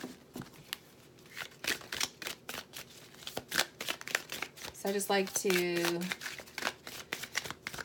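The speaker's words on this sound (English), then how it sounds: "get the deck shuffled, and this way I don't have to do it later while I'm doing the reading" A deck of tarot cards being shuffled before a reading, close riffles and soft slaps in irregular bursts, with someone speaking briefly over them.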